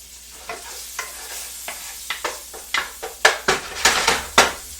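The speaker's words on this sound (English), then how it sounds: "Keep stirring that chicken" Chicken sizzling in a frying pan while being stirred, a low hiss under a series of sharp utensil scrapes that grow louder and quicker toward the end, close up and without voices.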